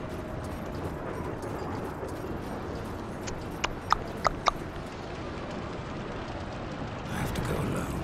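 A few faint horse hooves clip-clop briefly in the Darksiders 2 video game, a short run of four or five hoofbeats over a steady game ambience.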